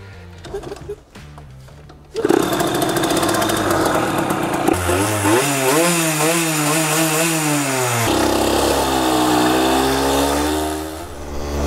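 A small street-legal Yamaha YSR motorcycle engine buzzes loudly and revs up and down in wavering, rising and falling pitches after a few short sputters, running continuously close by.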